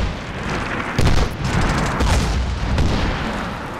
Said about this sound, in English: Trying to throw a grenade at me.